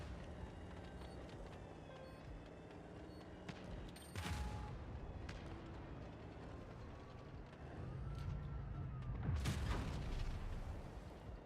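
Tank cannon shots in World of Tanks Blitz, two heavy booming blasts several seconds apart over a constant rumble of engines and mechanical whine, the second shot louder and closer.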